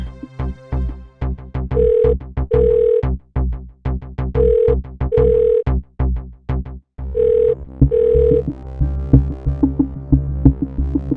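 A landline telephone rings repeatedly and goes unanswered, about five paired double-trill bursts separated by short pauses, loud and close, over a throbbing dramatic music bed with no voices.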